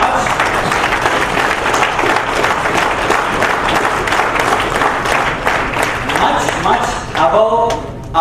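An audience claps at the close of an HR seminar, a loud sustained applause from a crowd that fades slightly near the end, with some talk mixed in.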